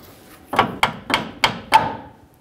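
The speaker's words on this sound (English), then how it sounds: "Let's get this lifted up a little and slide this retainer in." A lower control arm retainer sliding into place on a 2007-2014 Chevrolet Silverado 2500 HD front suspension, heard as five sharp metallic knocks spaced about a quarter second apart, close and fairly loud, with no talking.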